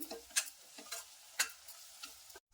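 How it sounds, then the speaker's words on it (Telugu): A spoon stirs prawn curry in a pan after ground cashew powder goes in, giving a few soft scraping strokes over a faint sizzle, fairly close and quiet, with no talk. "వేసుకున్నాక ఒకసారి చక్కగా కలుపుకోవాలి"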